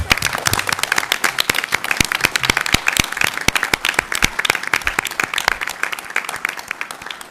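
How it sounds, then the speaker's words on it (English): A crowd applauds steadily, many hands clapping at once in a sustained, moderately loud round that begins to thin toward the end. "applause"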